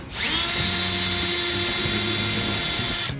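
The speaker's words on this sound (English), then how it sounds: "So I'm going to take this 3/32 drill bit." A small power drill with a 3/32 bit whines steadily at high speed for a few seconds, loud and close, with slight pitch dips as the bit bites through a rock guard and back piece on a Challenger Hellcat.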